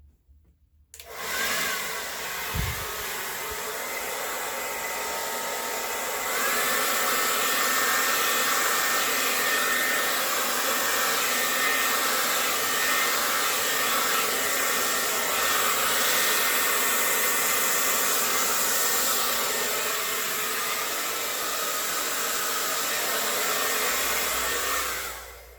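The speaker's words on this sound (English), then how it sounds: "I'm going to try to use my blow dryer to move that black out a little bit." A handheld blow dryer runs steadily for about 25 seconds over wet resin during a river-pour resin painting, a loud, continuous airy roar with no talking.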